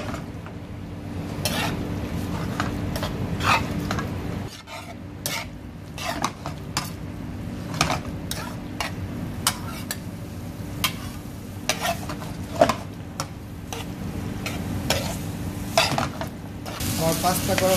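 Boiled pasta is stirred into a chicken and broccoli sauce in a pan, giving a soft ongoing sizzle broken by repeated scraping and clinks of a utensil against the pan.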